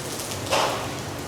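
Steady heavy rain in Taipei hisses evenly throughout, with a brief louder gust-like swell near the middle, no voices present.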